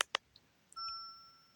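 Bright chime from the Otogirisou game: a few short tinkling dings, then a sustained pure ringing tone that holds steadily at moderate volume, with no voices.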